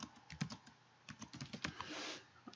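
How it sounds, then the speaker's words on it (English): Fast bursts of keystrokes on a computer keyboard while typing text into Notepad, clicking in quick irregular runs with short pauses, close and fairly quiet, with no talking. "I'm going to type in some text."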